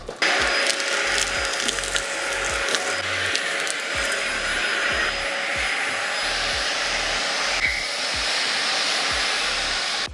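A household vacuum cleaner runs loud and steady while picking up dirt in an Arizona guest house, its whine continuous throughout with a rattling, scraping undertone.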